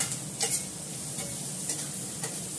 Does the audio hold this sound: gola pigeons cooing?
no